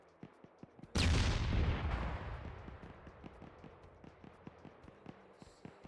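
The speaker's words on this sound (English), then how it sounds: "I'm trying to have some gunshots go off in the distance" In a winter-raid battle game, one loud, booming blast bursts out and rolls away over a couple of seconds, followed by a string of faint, evenly spaced far-off pops and cracks.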